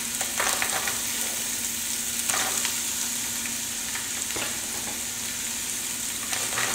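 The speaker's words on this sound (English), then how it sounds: "So we're going to add our mirepoix, which is our chopped carrots," Chopped carrots, onion and celery hit a hot stockpot with a dense, continuous sizzle up close, with a few soft scrapes of stirring over the hiss.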